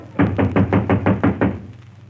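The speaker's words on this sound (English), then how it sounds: "Who's that knocking on the door, Mary?" Seven quick, evenly spaced knocks on a door ring out alone and fairly loud, a studio sound effect from a 1935-36 Jack Benny radio comedy sketch.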